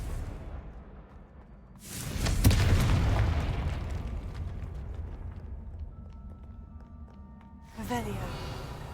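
A Confringo blasting spell explosion in the Hogwarts Legacy video game: a loud boom that swells and rumbles for several seconds before fading, followed later by a second burst, with a voice talking over it.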